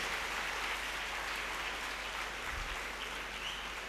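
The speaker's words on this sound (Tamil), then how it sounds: "அவங்களுக்காக ஒரு மிகப்பெரிய கைத்தட்டல்." Audience applause after a success speech at an IAS exam coaching academy, a steady wash of clapping from a crowd held at an even, moderate level through the whole stretch with no voices over it.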